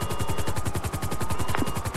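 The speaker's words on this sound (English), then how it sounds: "trying to get this damn helicopter turned around and going at the right altitude" A helicopter in a video game roleplay flies with a fast, steady rotor chop, rhythmic thumping beats repeating evenly and close, alone without voices.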